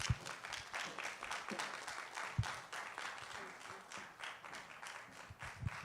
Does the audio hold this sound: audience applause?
yes